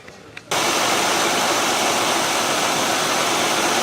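A GM car engine, running during a three-wire mass air flow sensor test, makes a loud, steady, broadband roar. It starts abruptly after half a second of quiet and then holds constant with no talk over it.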